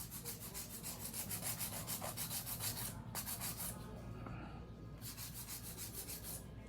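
A hand file rasps back and forth across acrylic nails in quick, even rhythmic strokes, close and soft, with a brief pause partway through before the scraping resumes.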